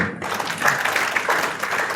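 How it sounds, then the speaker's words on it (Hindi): Loud, dense applause from a seated audience at a talk, continuous clapping filling the room throughout. "चलिए जोरदार ताली"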